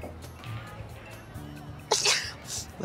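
A single sharp sneeze bursts out loud and close, followed by a short breathy tail, heard over low background murmur and light room noise.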